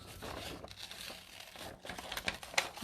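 Scissors snip and crinkle through paper while cutting out an oval, a quiet, close series of irregular rustles and cuts.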